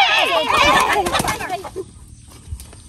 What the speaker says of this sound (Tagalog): Manok na itim.